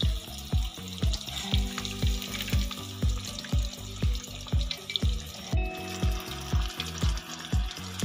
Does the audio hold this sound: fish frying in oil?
yes